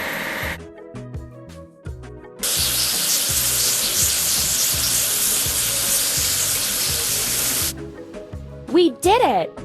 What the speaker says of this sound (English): We need to wash the tractor with carriage.